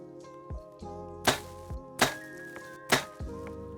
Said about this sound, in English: I'm gonna take my first couple shots here at 40 yards